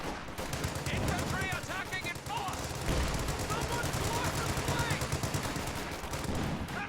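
Light machine gun fire from a real-time strategy game battle: rapid, sustained bursts of automatic gunfire rattle continuously with overlapping shots and battle noise, loud and close throughout.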